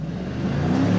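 A hot rod engine revs hard and steadily climbs in pitch, a close, loud, continuous mechanical roar with no talking.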